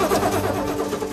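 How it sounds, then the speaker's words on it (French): A vintage Triumph TR5 engine struggling to catch, giving a loud, close, rough churning drone that runs on continuously without settling into a clean idle. "Bon, visiblement le moteur a un peu de mal à s'enflammer."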